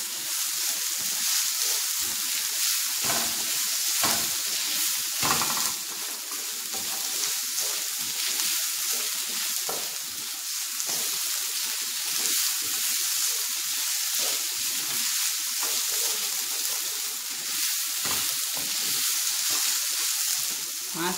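Ginger paste and garlic fry in a pan for a spring onion dry vegetable dish, a steady loud sizzle running throughout with scattered scraping stirs and no talk.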